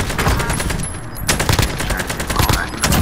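Rapid automatic gunfire in Call of Duty: Warzone on Rebirth Island, loud bursts of bullets crackling continuously with a brief lull and then more volleys.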